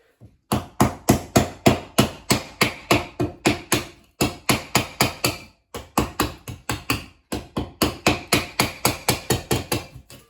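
Rapid, rhythmic blows from a round mallet on a sink set in a granite countertop land in several bursts of quick repeated strikes, loud and close, separated by short pauses.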